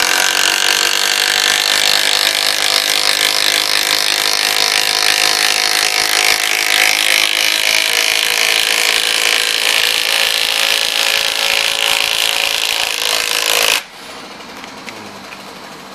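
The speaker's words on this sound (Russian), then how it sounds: "Я тут в балку закрутил." A Makita cordless screwdriver drives a screw into a wooden beam, one long continuous loud whirring grind lasting about fourteen seconds before cutting off abruptly into quiet.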